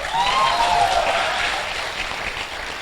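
An audience in a hall applauding, loud dense clapping from many hands that stays steady and then eases slightly toward the end, with a faint whistle-like tone early on.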